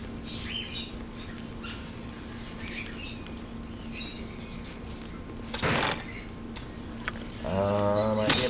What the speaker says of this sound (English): Elaborate interior aviary filled with exotic plants as well as numerous strange birds.